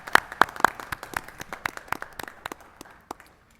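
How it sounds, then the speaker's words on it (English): Applause from a small group at a school board of education meeting, a flurry of sharp claps that thins out and fades over a few seconds. "give them a warm round of applause for all of their efforts over the summer"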